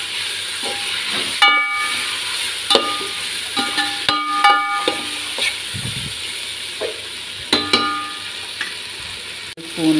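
Ginger garlic paste stirred in a pan with turmeric, a spoon scraping in uneven strokes with clinks against the metal over a steady hiss of frying, close and fairly loud, no talk.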